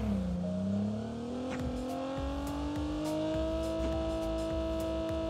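Car driving in a Call of Duty game, its engine droning and gradually climbing in pitch as it accelerates, steady and fairly close with faint clunks underneath and no voices.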